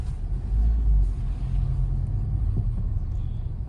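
Honda Civic Type R FL5 with its VTEC engine heard from inside while driving, a steady loud low engine and road rumble that swells briefly early on, with no talking.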